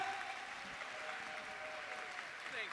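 A conference audience at SHRM 2024 applauds as a speaker takes the stage, steady continuous clapping from many hands held at an even, moderate level throughout.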